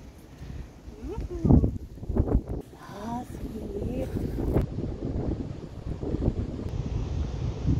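Gusty wind buffeting the microphone on tall coastal sand dunes, rough and roaring with uneven surges, while voices speak and call out over it.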